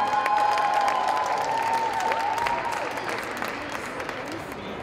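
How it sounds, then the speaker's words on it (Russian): Audience applause at a dance awards ceremony, a steady crowd clapping that holds throughout and eases slightly toward the end, with a tonal music or feedback line running beneath it. "Ваши аплодисменты."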